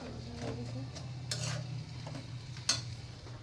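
Cooked leafy greens (shak) being tempered in hot oil in a pan, stirred with a utensil: a low steady sizzle under scraping stirs, with a couple of sharper clinks against the pan near the end.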